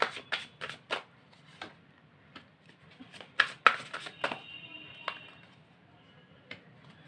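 Oracle cards are shuffled by hand in a quiet room: a series of short, crisp riffles and slaps in uneven bursts, close and soft, with no speech.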